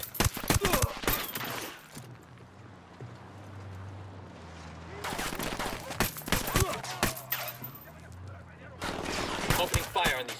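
Video game gunfire in Ghost Recon Wildlands comes in loud, rapid bursts at the start, in the middle and at the end, with a quieter stretch of rumbling ambience between them.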